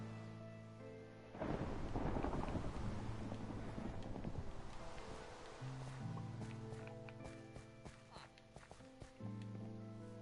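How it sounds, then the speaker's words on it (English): A crazy storm in Minecraft on PS4 brings loud rolling thunder and steady rain, with game music notes and footstep sounds continuing underneath. "crazy storm"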